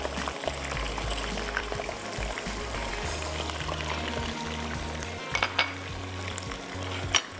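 Chicken sizzling in a pan with garam masala and ginger-garlic paste, a steady crackling fry under occasional scraping stirs, close and moderately loud.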